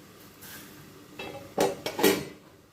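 An idli steamer pot lid is lifted after steaming, giving a couple of close metallic clanks and a brief hiss of escaping steam, alone without talk.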